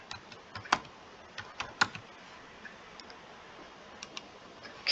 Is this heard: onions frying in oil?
no